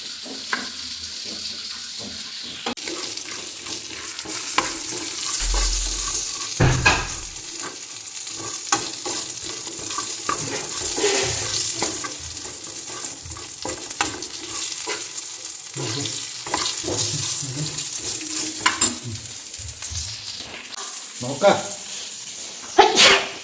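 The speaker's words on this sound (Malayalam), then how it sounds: "ഇന്ന് beef dry fry B D F dry beef fry" Beef dry fry sizzling and being stirred in a pan, with continuous frying hiss, scraping and clattering stir strokes, and scattered talk around it.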